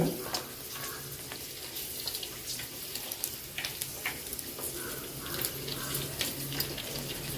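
Food fries in boiling oil with a continuous crackling sizzle and scattered pops, heard at moderate level close by and fairly steady throughout.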